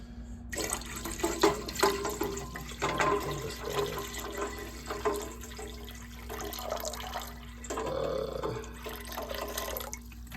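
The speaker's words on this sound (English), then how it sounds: "I'm actually going to add a little bit more water because, like I said, I want to make a pretty huge pot." Water from a large bottle runs and splashes into a big cooking pot for oatmeal outdoors, a steady pouring with uneven gurgles and surges, fairly close and heard alone.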